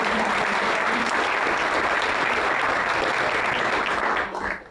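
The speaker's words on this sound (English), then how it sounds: "Let's applaud for that." An audience at a demo day event bursts into sustained applause, dense and loud clapping from a large crowd that carries on steadily before fading out near the end.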